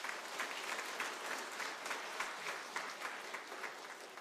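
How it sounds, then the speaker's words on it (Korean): A church congregation applauds in steady, dense clapping that holds at an even level from start to finish, filling the room without a break. "격려와 축하의 박수를 해주시기를 바랍니다"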